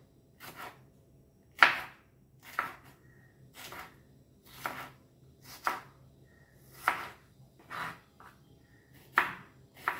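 A knife chops jalapeno peppers for homemade pickle on a cutting board in about ten crisp, separate strikes at an uneven, unhurried pace, close by and with no talking.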